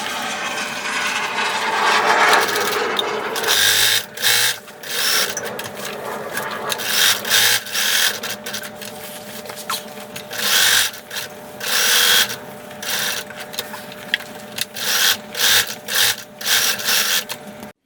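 A sewing machine stitches a patch onto jeans in loud rattling bursts of rapid needle chatter, stopping and starting repeatedly with short pauses between runs.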